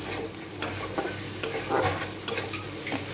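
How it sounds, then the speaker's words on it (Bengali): Spices frying in a pan for a banana-stem and paneer curry, with salt, turmeric and raisins, stirred steadily: a close, soft sizzle runs throughout, broken by several sharp scrapes of the spoon against the pan, with no talking. "মশলাটা প্রায় ভাজা হয়ে এসছে"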